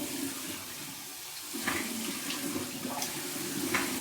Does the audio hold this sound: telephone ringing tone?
no